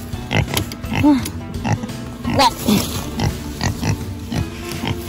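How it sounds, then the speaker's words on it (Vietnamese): Farm pigs on a rural American farm give repeated snorting grunts and oinks at close range, with someone talking over them in Vietnamese. "mấy chị heo, mấy chị heo"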